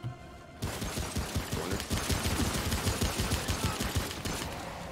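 Rapid gunfire in the Remnant video game, a dense continuous burst of automatic shots that starts abruptly after a brief pause and keeps hammering loud and close for several seconds, with no talking over it.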